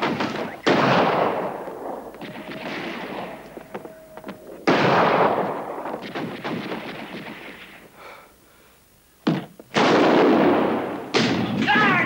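Gunfire erupts in a tense urban standoff, loud bursts and thumps in several clusters separated by brief lulls, with shouting voices mixed in.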